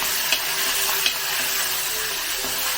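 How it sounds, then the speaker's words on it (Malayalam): Spices with ginger garlic paste fry in ghee for a chicken curry, a steady close sizzle with stirring and a couple of sharp spatula scrapes against the pan. "അതെല്ലാം കൂടെ കണ്ട നെയ്ക്കകത്ത് അങ്ങ് മൂക്കുന്നുണ്ടല്ലോ"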